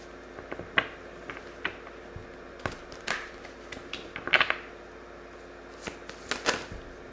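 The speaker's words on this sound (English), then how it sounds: "I'm going to pull a couple more cards from a different deck" A deck of tarot cards being shuffled up close, with repeated riffles, taps and soft card snaps in uneven bursts, no voices.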